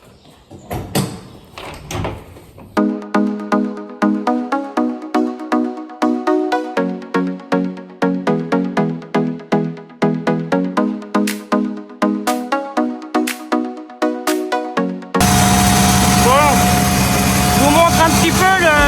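An old tractor cranks over in a long run of rhythmic, evenly spaced starter pulses, then catches and settles into a loud, steady idle close by. Some faint handling noise comes first.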